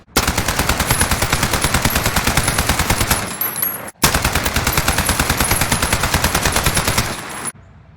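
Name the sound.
AN-94 rifle firing in a video game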